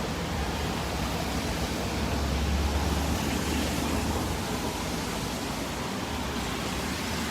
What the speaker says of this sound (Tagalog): Yung tipong ang lakas ng ulan.